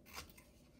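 A soft, close snip of scissors cutting paper, one quick crisp cut followed by a fainter second, very quiet overall.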